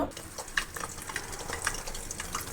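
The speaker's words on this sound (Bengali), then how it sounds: "এখন আমি ডিমটা দিয়ে দিব ডিমটা দিয়ে সুন্দর করে ভাজি করে নিব" An egg fries in a pan for a fried rice dish, a steady soft sizzle with faint crackles and small pops throughout, close and alone.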